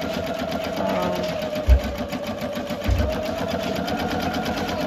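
A Janome MC230E single-needle embroidery machine stitching a baby bodysuit, running with a fast, steady mechanical rhythm and a couple of low thumps partway through.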